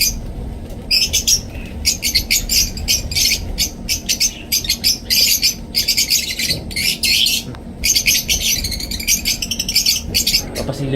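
Pet lovebirds squawk and chirp loudly and close by, in dense repeated bursts of shrill calls that run almost without pause.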